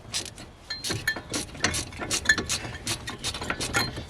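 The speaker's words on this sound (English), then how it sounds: "we'll just start ratcheting away" A hand ratchet tightens a brake caliper slider on a BMW F30 during a front brake pad change, giving a close series of quick metallic clicks in uneven bursts.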